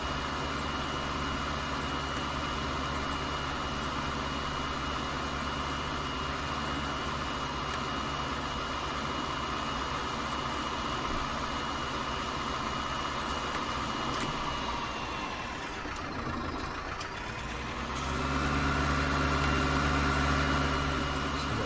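A Fendt tractor engine from Farming Simulator 19 drones steadily at a constant hum, a dense mechanical whir that dips briefly before swelling back louder near the end.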